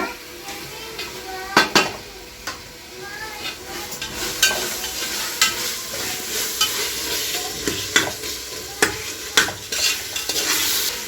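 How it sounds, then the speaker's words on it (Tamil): Tomatoes sizzle in a pan while being stirred for mushroom biryani, with a steady frying hiss under repeated scrapes and clinks of a metal spoon against the pan. "இப்போ தக்காளி போட்டுக்கலாங்க"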